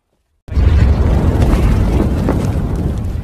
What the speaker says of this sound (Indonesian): Ini baru meledak.